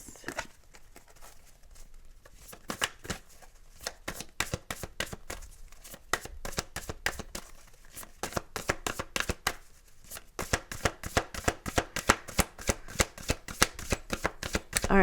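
A deck of affirmation cards is shuffled close up, rapid riffling bursts of flicking card edges that grow quicker and louder toward the end, heard alone without talking.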